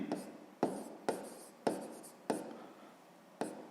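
A pen writes an answer into a fifth-grade maths exercise, making six separate scratchy bursts of strokes, each starting with a tap, close and quiet with no one speaking.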